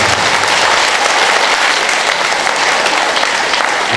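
An audience claps at a fourth-grade school graduation in Armavir, Armenia: dense, loud, continuous applause from a large crowd that fills the whole stretch without a break.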